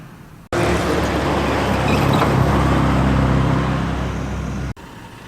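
A Hillman Avenger rally car runs at Oulton Park during a classic car rally, its loud engine roaring steadily close by for about four seconds before cutting off abruptly.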